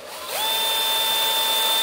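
An electric drill spins up quickly and then holds a steady, high-pitched whine, loud and close, with no talking.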